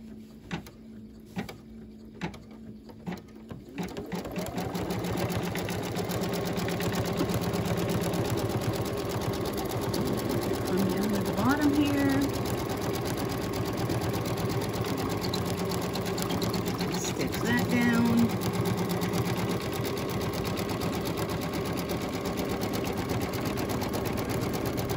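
Embroidery machine stitching a mug rug in the hoop, a steady loud mechanical hum and rapid needle chatter that starts after a few quiet seconds and runs continuously to the end.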